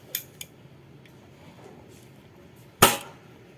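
An air gun fires at a drinking glass: a single loud, sharp crack rings out near the end, preceded by two faint clicks early on, with quiet room hush between.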